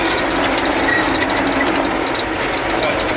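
Niva SK-5M1 combine harvester driving through a soybean field at harvest, a loud steady broadband engine and machinery roar filling the whole stretch without letup.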